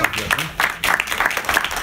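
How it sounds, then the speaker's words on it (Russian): Cinema audience applause, a burst of clapping that rises and falls in waves for a couple of seconds, with voices talking over it. "Давайте аплодисменты."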